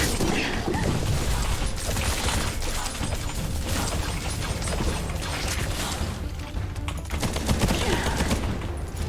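Close, rapid blasts of a shotgun fired in the first-person shooter Bright Memory, loud and dense throughout with crashing impacts and mechanical clatter layered over continuous game noise.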